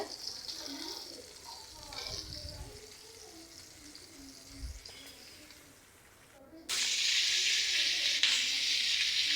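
Fish, potato and flat beans fry in hot oil in a home kitchen, a soft sizzle at first that turns into a loud, steady crackle over the last few seconds.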